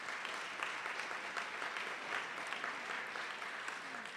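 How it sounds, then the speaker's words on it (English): Sustained applause from an audience standing at a Friday forum event, a dense, even wash of clapping that holds steady throughout without any speech over it. "please rise and stand for a round of applause"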